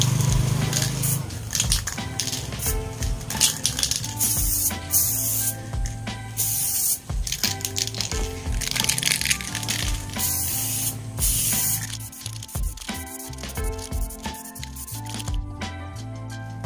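Samurai Vostok Silver aerosol paint sprayed as a second coat on a Raider 150 streetbike part, a loud close hiss in long bursts with short pauses and faint rattles between, no talk.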